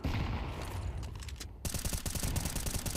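Gunfire in Counter-Strike 2 during a match on the map Inferno, with a muffled clatter followed by a dense, rapid automatic burst of loud shots.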